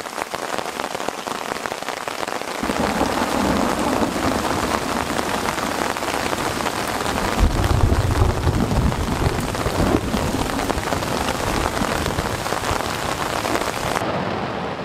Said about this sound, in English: Raining cats and dogs now.